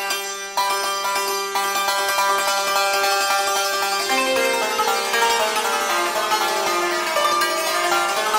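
Persian santur struck in a pattern of one right-hand stroke followed by two left-hand strokes, giving bright, shimmering metallic notes in a quick, steady ripple of tremolo, played alone and close.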